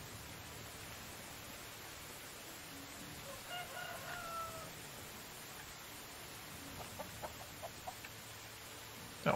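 In the video game Medieval Dynasty, a rooster crows and hens cluck in a farmyard, faint and distant over a steady background hiss, with a few brief cluck-like notes toward the end.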